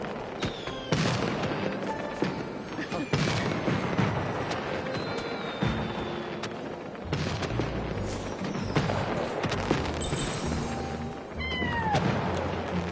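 Scattered booms and crackling bursts of fireworks go off repeatedly over a busy, layered soundscape in the video game Infinity Nikki, with whistling rises and a few meow-like tones.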